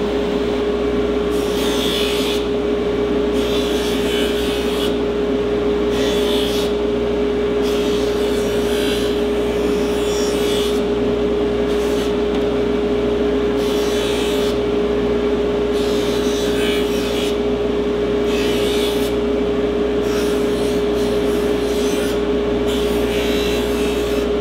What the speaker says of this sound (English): we deburr the edges, and we get it ready to be close to your skin